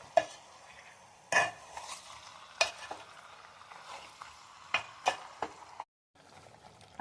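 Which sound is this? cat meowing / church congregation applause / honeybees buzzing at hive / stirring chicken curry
stirring chicken curry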